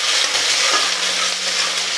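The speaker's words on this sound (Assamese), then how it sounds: "এতিয়া এইখিনি অকণমান ৰং চোৱালৈকে ভাজি ল'ম।" Chopped onions and whole cumin seeds fry in hot oil, giving a continuous, close, even sizzle with a faint steady hum beneath.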